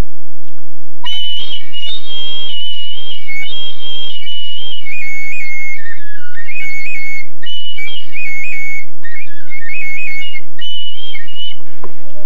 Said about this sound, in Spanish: Cuando tocan así, cuando tocan el pífano